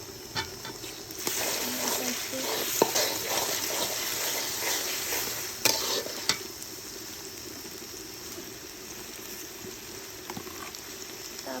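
Garlic and ginger paste is stirred and fried in a pan for sweet mango pickle, a soft, steady bubbling sizzle with occasional knocks of the spoon against the pan.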